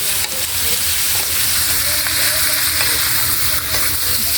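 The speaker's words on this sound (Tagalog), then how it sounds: "Halo na mabuti po mga idol." A native chicken adobo mixture sizzles loudly in a pan while being stirred, a continuous dense frying hiss with soft scraping, and faint voices sit in the background.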